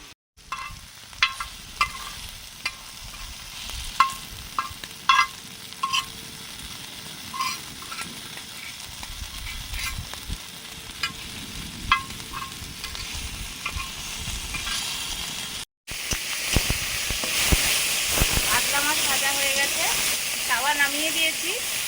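Fish and puffed rice fry on a large tawa with a steady sizzle and occasional stirring clinks, growing louder and hissier near the end as more fish goes in.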